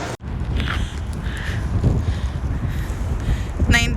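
Steady wind buffeting a microphone outdoors in cold Canadian weather, gusty low rumble filling the clip with faint background sounds and brief noises on top.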